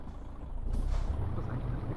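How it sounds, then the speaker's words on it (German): Truck air brake hissing in Euro Truck Simulator 2, a broad burst of hiss rising around the middle and holding steady over low engine rumble, fairly loud, with no talking. "Das ist eigentlich ein LKW."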